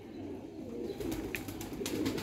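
A high-flyer pigeon cooing near a loft in Lahore, soft low coos over steady background hum, with some faint rustling and brief higher chirps.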